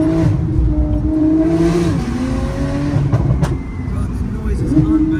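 750hp Porsche Turbo S accelerating hard, loud engine and exhaust roar climbing through gears with brief dips at shifts, heard from inside the car with faint talk beneath.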